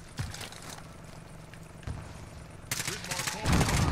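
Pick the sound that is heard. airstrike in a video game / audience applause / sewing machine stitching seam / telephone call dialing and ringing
airstrike in a video game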